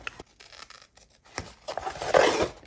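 Scissors cutting away paper flaps while assembling a handmade journal, with close, crisp snips and scraping paper rustle that builds to a louder stretch of cutting near the end.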